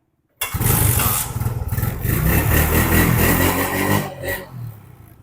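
A Suzuki Shogun 2000 motorcycle engine starting abruptly and running loud and close, rough revving that settles and fades toward the end, no talk.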